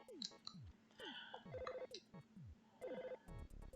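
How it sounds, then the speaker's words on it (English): Chiptune telephone ringing from the EarthBound video game, a repeating electronic ring pattern with descending beeps and tonal chirps playing in steady bursts, with no talking. "And now I gotta go answer the phone."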